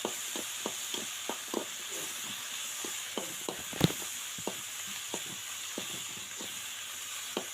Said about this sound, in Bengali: দিয়ে এটাকে আমি নাড়াচাড়া করবো